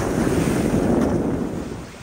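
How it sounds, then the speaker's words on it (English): Water rushes and splashes steadily past the hull of a Whitby 42 ketch under sail in Biscayne Bay, mixed with gusty wind buffeting the microphone, fading slightly at the end. "The sound of water passing us by."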